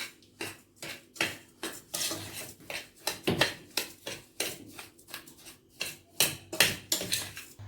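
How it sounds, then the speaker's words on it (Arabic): Metal spoon scraping and clanking against a pot while semolina is stirred hard with ghee for basbousa, a fast irregular series of close, bright clinks and scrapes with no talk. "واقلب بقى جامد عشان السمنة ايه تشرب الايه حاجة، عشان الدقيق يشرب"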